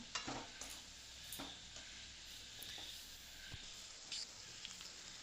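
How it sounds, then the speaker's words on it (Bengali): Turmeric and chili powder spices frying and being stirred in oil for a homestyle chicken kosha jhol, a steady close sizzle with occasional scraping stirs throughout. "এই মশলাটা যতক্ষণ না তেল ছাতে ততক্ষণ একটু ভালো করে এটাকে কষে ফ্রাই করে নিতে হবে"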